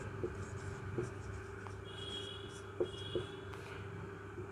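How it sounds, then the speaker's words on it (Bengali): Writing on a board gives soft scratchy strokes with a few small taps, quiet and close against a low room hum. "টেম্পারেচার বা তাপমাত্রা আমি বাংলাতেও লিখে দিচ্ছি"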